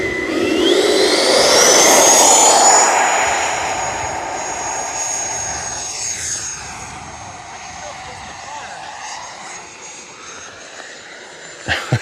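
A Freewing F-22 Raptor model jet roars loudly overhead and then fades into the distance as it flies past, with excited onlookers talking over it.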